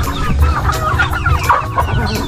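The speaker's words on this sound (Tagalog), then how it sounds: "Dito po nakikipag-agawan sa pugad ng manok." Chickens clucking around a nest in a backyard poultry setup where turkeys also compete for the nest, a dense run of close, overlapping clucks with no talking.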